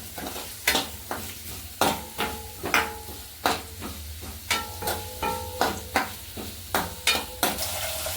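Chillies and spices sautéing in a pan, a steady low sizzle broken by regular scraping stirs and light clinks of a spoon against the pan, close and without talk.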